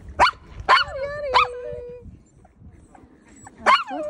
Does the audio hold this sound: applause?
no